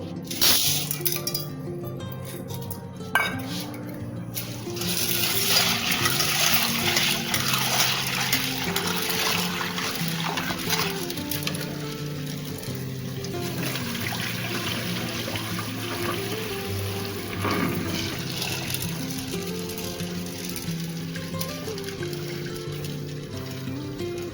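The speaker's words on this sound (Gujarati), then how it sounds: "દાળ પકવાન બનાવવા માટે આપણે અહીંયા 1 બાઉલ ચણાની દાળ લીધેલી છે. એને આપણે ધોઈ લઈશું." Split chickpeas (chana dal) swished and rinsed by hand in a bowl of water, with clinking of the bowl and trickling, splashing water throughout, close and steady with no talk.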